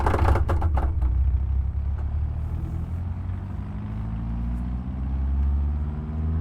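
A small 1.3 liter car engine in the BeamNG video game hums in a steady low drone, rising slightly in pitch through the clip, alone with no voices.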